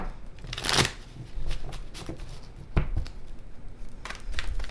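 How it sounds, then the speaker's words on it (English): Close, crisp riffling bursts of playing cards being shuffled, a loud flurry early on followed by a few shorter shuffles, with no talking. "Alright, one more shuffle."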